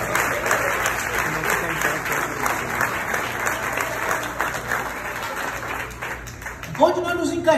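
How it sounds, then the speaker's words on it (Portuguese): A church congregation claps warmly during a sermon, a steady wash of applause filling the room for several seconds, then a speaking voice cuts in near the end. "Você pode aplaudir a Jesus?"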